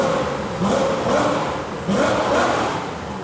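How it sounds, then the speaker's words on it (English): A Koenigsegg engine revs from inside the car, rising and falling in two clear surges with a whirring mechanical tone underneath. No voices are heard. "Regarding the engine sound, yes, the car we're in has a sound like music."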